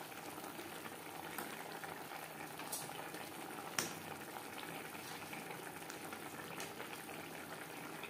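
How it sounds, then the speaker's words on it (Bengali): Fish curry gravy bubbling steadily in a pan, a soft continuous simmer with faint pops and one sharper clink, fairly quiet and close, no voices. "গ্রেভি ফুটে ওঠা পর্যন্ত অপেক্ষা করব।"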